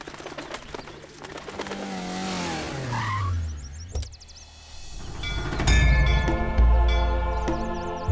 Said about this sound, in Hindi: जरा गाड़ी रोकिए।